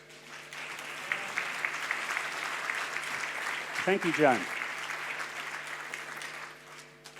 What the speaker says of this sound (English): Would you all please give Joan a big round of applause?